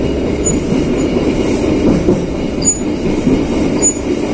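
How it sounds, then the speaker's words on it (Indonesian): A passenger train of teak-frame carriages on the Cirebon–Jember service rumbles steadily along the rails, with continuous rolling wheel noise and faint high wheel squeals now and then. "rangkaian kereta api rangka jati Cirebon Jember"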